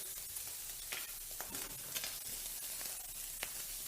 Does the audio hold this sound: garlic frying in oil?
yes